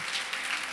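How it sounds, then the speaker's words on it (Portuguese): A brief, even burst of applause from a church congregation during a pastor's sermon reflection, many hands clapping together in a continuous, moderately loud patter. "Vamos aplaudir ao Senhor."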